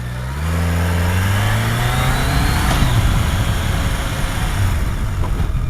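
A Honda CBR sport motorcycle engine revs up close and loud, rising through a few quick climbs in pitch and then holding a steady roar until the end.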